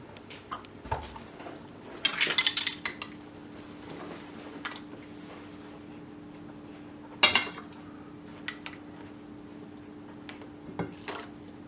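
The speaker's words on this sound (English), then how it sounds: "So I'm stirring up the mayonnaise, the sour cream, and the buttermilk." Mayonnaise, sour cream and buttermilk stirred in a bowl, intermittent clinks and scrapes of a utensil against the bowl with a few louder bursts over a quiet kitchen hum, no speech.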